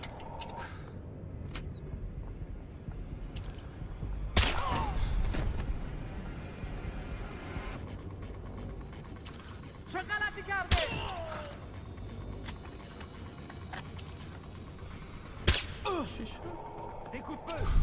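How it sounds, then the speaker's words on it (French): Gunfire in the stealth shooter game Splinter Cell Blacklist: a few sharp, distant shots and bursts scattered over a steady low background hum, with French in-game voices speaking in between. "Des coups de feu."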